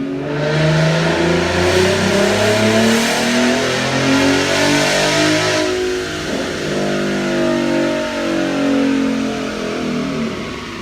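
A tuned Ford Mustang 3.7 V6 with mild bolt-ons revs hard through a dyno pull, its loud engine note climbing, easing off briefly, then rising again under full load.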